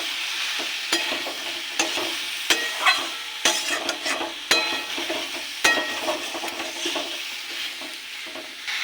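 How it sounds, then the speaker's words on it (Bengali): Pointed gourd and soybean curry with chili powder is stirred in a sizzling pan, a spoon scraping and knocking in irregular strokes over a constant frying hiss, close and clear with no talking. "পরিমাণ মতো লঙ্কার গুঁড়ো ভালো করে মিশিয়ে নেব"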